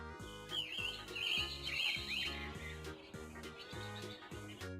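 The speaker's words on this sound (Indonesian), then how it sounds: "magpie" A magpie gives a run of bright chirping calls and short warbling phrases, clear and moderately near, over a repeating soft rhythmic musical background.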